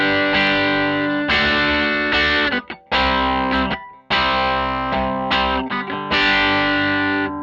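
Electric guitar through an amp miked up front with a dynamic and a condenser mic aligned in phase, giving a loud, full, distorted tone in sustained chords broken by a few short gaps, with no talking.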